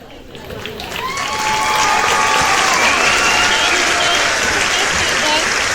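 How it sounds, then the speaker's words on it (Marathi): Loud crowd applause for child dance performers at a dance competition during a Jayanti festival, swelling within the first two seconds and then holding as sustained clapping, with an announcer's voice over it. "जोरदार टाळ्या झाल्या पाहिजेत"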